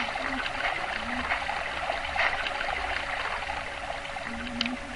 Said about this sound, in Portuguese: Tem até mais barulho de água.